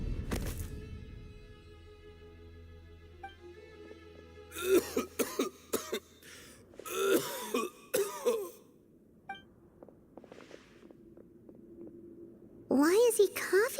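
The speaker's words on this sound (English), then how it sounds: "Why is he coughing so much?" A male character in the video game Genshin Impact coughs in several harsh, throaty bursts over soft game music, with a longer gap before a final cough near the end.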